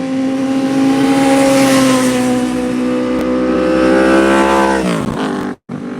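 Vehicle speeding past on a wet mountain road at night, a loud steady engine roar that holds close and then drops in pitch as it passes and fades, with a brief cut near the end.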